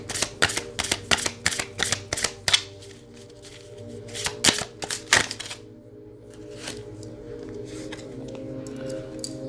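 Tarot cards are shuffled and handled, giving a quick run of crisp riffling bursts and slaps, then softer, scattered flicks over a steady background hum.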